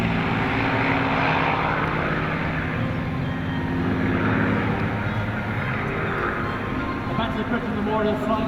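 Supermarine Spitfire fighter passing at a Battle of Britain airshow display in Sunderland, a steady, loud propeller-engine drone sustained throughout with a broad rumbling roar and no break.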